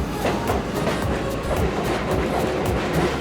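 A New York City subway train rumbles and clatters steadily, its wheels clicking rhythmically over the rails, with no voices heard.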